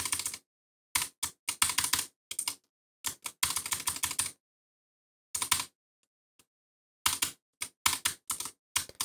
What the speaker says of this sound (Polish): wpisujemy tutaj kod